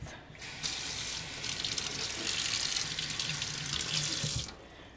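A Keurig K65 coffee maker's water filter cartridge is rinsed under a running kitchen tap, giving a steady, close splash of flowing water that continues for several seconds before cutting off.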